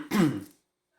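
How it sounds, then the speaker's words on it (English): A single close throat clearing outdoors in chilly weather, a short rough rasp lasting about half a second, followed by silence. "Sorry for clearing my throat so much."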